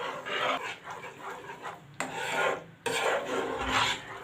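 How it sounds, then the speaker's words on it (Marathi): A spoon scrapes and stirs thickening milk in a pan while it reduces to khoya, giving close raspy rubbing strokes in bursts with a couple of brief pauses. "सतत ढवळत राहायचं चमच्याने बिलकुल चमचा थांबवायचा नाही आहे"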